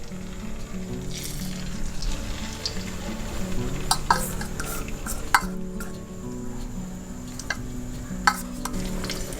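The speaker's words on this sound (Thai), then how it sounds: "แล้วก็นำหมูยอลงทอดได้เลยค่ะ" Hot oil sizzles steadily as Thai pork sausage fries in a pan, with occasional clinks and scrapes of a utensil against the pan.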